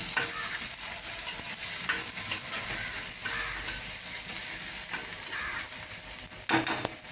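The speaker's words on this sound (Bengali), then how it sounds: "আবারও সবটা একটু ভালো করে ভেজে নিচ্ছি।" Chopped tomato frying and being stirred in a pan for a spinach and paneer dish: a steady close sizzle with scraping stir strokes throughout, and no talk.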